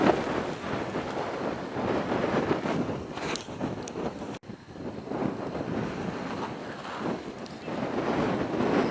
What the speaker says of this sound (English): Move my hand, let you hear how windy it is.